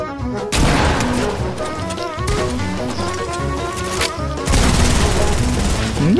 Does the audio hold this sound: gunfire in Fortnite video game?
yes